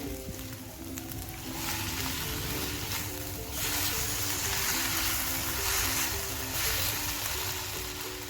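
Chicken for chow mein frying in a pan, a steady close hiss and sizzle that swells and eases in waves, with no talk.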